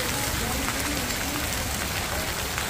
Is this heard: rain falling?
yes